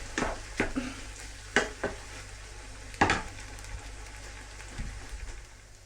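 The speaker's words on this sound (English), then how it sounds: "I've been frying this for a while now with added pepper and salt." Minced beef and fake meat fry in a pan with pepper and salt, giving a soft, steady sizzle broken by several sharp scraping stirs of a utensil against the pan.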